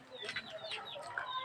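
A rooster clucks and fusses close by in a backyard pen, with short overlapping clucks and chatter throughout.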